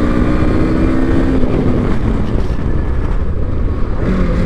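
A motorcycle with ABS during a braking test, its engine roaring loud and close throughout.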